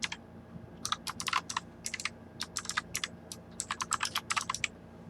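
Code being typed on a computer keyboard for a C# program: quick, close, crisp key clicks in uneven bursts with short pauses, over a faint room hum, no talking.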